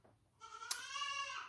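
A single goat bleats close by, a clear wavering cry lasting about a second over a quiet background, with no voices.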